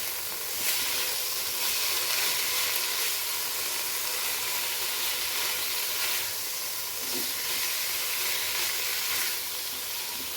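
Cocktail sausages cook under a lid in a pan over a low flame, giving a steady, even sizzle and hiss that carries on alone throughout.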